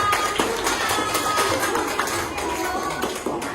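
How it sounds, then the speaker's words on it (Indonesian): Classmates clap for a group coming up to present in a classroom, a busy patter of many hands mixed with faint voices, steady for a few seconds. "Tepuk tangannya dulu dong, biar semangat semua"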